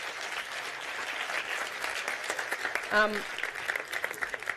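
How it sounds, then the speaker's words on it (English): An audience applauds steadily throughout, a dense round of clapping at a talk, with a brief voice cutting in partway through. "I think a little round of applause for them, because it's been brilliant"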